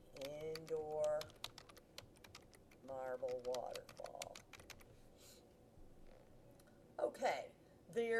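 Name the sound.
typing on a computer keyboard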